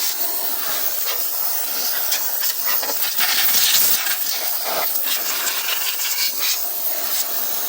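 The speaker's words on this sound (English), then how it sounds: "Got us the 21-gallon, 175 PSI McGraw air compressor. The little on there. Just blow it on out a little." A 21-gallon, 175 PSI McGraw air compressor blows compressed air, giving a steady bright hiss with gusty bursts that swell and fade for several seconds, close and loud with no talking.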